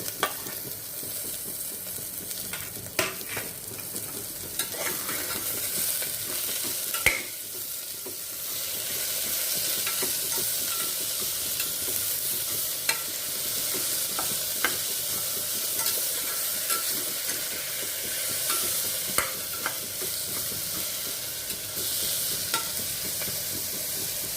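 Tomato with cardamom, cloves and cinnamon frying in a pan for dal, a steady bright sizzle punctuated by occasional clicks and scrapes of stirring, continuous and fairly close.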